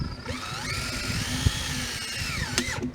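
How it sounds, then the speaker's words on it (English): A power drill fitted with a 5/16 bit bores holes in PVC pipe for a deer feeder, a close, steady high whine that dips and rises as the bit bites, ending with a brief rev. "you got your drill with your 5/16 drill bit. We're just gonna drill out the holes quick."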